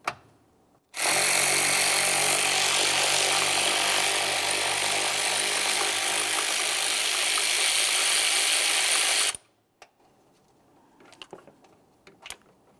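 Ratchet loosening 10mm coolant reservoir bolts on a 2009-2019 Ford Flex: a loud, continuous whirring, grinding run for about eight seconds, then near silence with a few faint clicks and taps.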